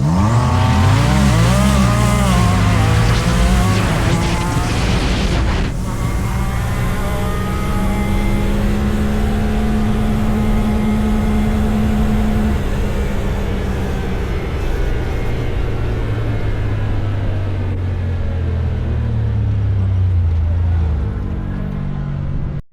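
Honda Talon and Can-Am Maverick R side-by-sides race in low gear, their engines roaring loud and steady, climbing in pitch through the gears with a sharp change early on, then a long sustained drone that fades toward the end.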